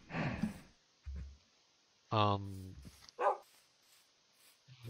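Dog barking in a video game, a couple of short barks and a drawn-out whining yelp separated by pauses, fairly close, with someone talking between them.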